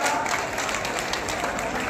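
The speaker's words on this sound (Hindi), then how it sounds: "जोरदार तालियां।" A crowd applauds at an outdoor political rally for a Congress MP in Fatehabad, a dense, steady wash of clapping with voices mixed in throughout.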